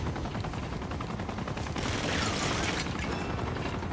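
Rapid automatic gunfire in the video game Uncharted 2, a dense, continuous burst of shots at steady volume with no speech.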